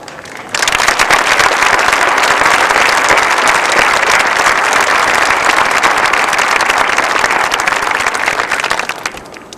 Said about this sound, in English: please join in a warm round of applause for the basic school reunions